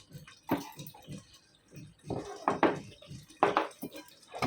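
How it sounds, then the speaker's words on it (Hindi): Half a cup of water poured into a pan of frying masala for chicken tandoori tikka gravy, giving close splashing, sizzling bursts and metallic scrapes of a spoon, coming in several uneven surges. "थोड़ा सा आधा कप पानी लगा दिए।"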